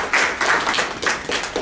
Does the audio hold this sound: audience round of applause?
yes